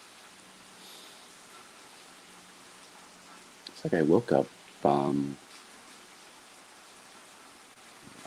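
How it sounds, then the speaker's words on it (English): Soft, steady hiss of rain falling outdoors on a cool morning, constant and gentle, with a person briefly speaking over it midway. "kind of enjoy the sounds of the rain"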